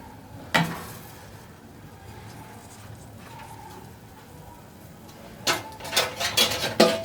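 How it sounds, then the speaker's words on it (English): Raw pork being washed in a metal pot, with a sharp clank, a faint gap of quiet, then a flurry of close clattering, knocking and splashing toward the end. "let me wash the pork first"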